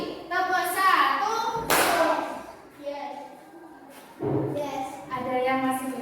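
Children in a classroom clap through a numbered clapping routine, with bursts of hand claps around 1.7 s and 4.3 s breaking through a child-voiced chant that carries through most of the clip.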